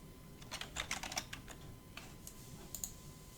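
Fingers tap out a short burst of quick key presses on a laptop keyboard, close and fairly quiet, slowing to a few scattered clicks, with no one speaking.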